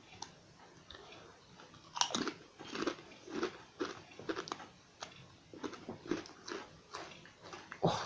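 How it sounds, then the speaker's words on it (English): Close, crisp crunching of Kettle Chips mature cheddar and red onion crisps being bitten and chewed, irregular loud bites and chomps repeating over several seconds with no talking. "So for those of you who don't like the sounds of crunching, I apologise."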